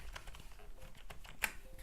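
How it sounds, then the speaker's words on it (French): A cheap gaming keyboard being typed on gives a quick, irregular run of clicky keystrokes, close and fairly soft, with one sharper key hit standing out near the end and no talk. "Et là tu peux jouer avec le clavier comme ça."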